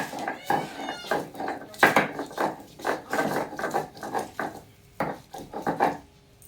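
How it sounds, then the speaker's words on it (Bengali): Fresh ginger is ground by hand for a rohu fish curry, giving repeated close scraping and rubbing strokes in an uneven back-and-forth rhythm, each stroke a short gritty burst. "প্রথমে আদাটা বেটে নেব।"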